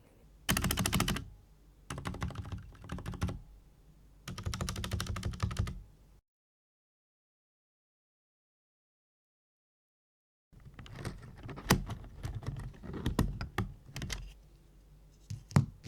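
Typing on an Epomaker EP84 mechanical keyboard: three quick bursts of clacky keystrokes, a few seconds of silence, then a longer run of uneven, close key presses.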